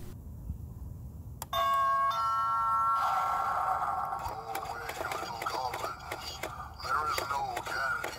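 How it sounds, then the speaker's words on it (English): An animated Halloween doorbell decoration in a yard sounds a bright chime, then plays a spooky melodic jingle with whispery voice effects, fairly quiet and close. "To the right of the gate, I have an animated doorbell."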